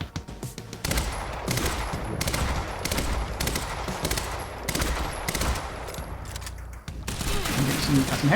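Rapid bursts of gunfire from the video game Quantum Break, repeated loud volleys in quick rhythm with brief pauses, one short gap near the end before firing resumes.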